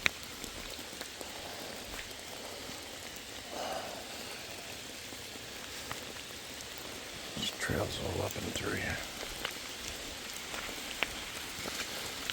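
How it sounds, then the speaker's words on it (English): Steady heavy rain patters across the surroundings without letup on an evening near Minnewaska State Park, with a voice speaking briefly over it and a few louder drips and rustles. "you can see how steady this rain is. It's downpouring non-stop."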